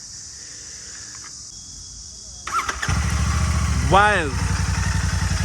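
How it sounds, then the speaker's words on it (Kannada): A Royal Enfield Shotgun 650 limited edition twin-cylinder engine starts up, a brief whirr then a loud steady idle that continues close by, with someone speaking over it. "It's a twin cylinder sound."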